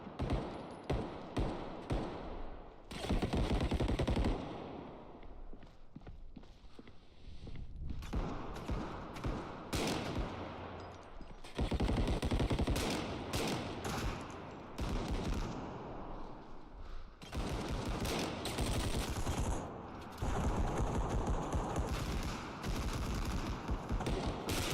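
Automatic gunfire in a shooting video game, with dense bursts of rapid shots crackling loud and close, pausing briefly between volleys over roughly twenty-five seconds.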